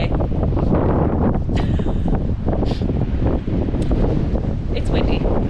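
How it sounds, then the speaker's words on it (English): Strong wind blows outdoors during a rainy, stormy spell with trees swaying, roaring steadily and buffeting the microphone with loud low rumble throughout, while a voice speaks briefly under the gusts. "It's pretty windy out here."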